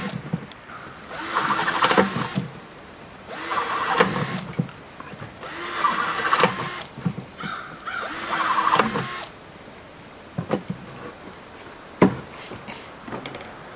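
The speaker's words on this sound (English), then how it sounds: "just a minute, I gotta drill some holes here." A power drill drilling holes whirs in several bursts of a couple of seconds each at a rustic log cabin deer hunting camp, separated by pauses with small clicks and handling noises, nearby.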